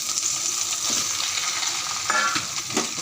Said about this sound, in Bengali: সোয়াবিনগুলো এই তেলে ছেড়ে দেবো এগুলো ভেজে নেব